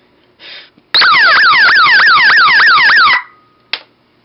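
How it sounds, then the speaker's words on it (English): A loud 12-volt pulsing alarm siren wails in rapid rising sweeps for about two seconds, bracketed by short clicks and bursts of static before and after. "It's very loud and obnoxious, which is really what it's for, what any siren is for."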